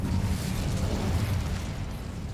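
Incendio fire spell cast in Hogwarts Legacy, a sustained roaring, bursting blast of flame that stays loud and dense from start to finish with no pauses.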